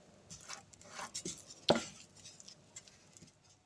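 Butter and flour roux for macaroni cheese being stirred gently in a pan, heard as faint, soft scraping and light patter with one sharper clink partway through, no voices.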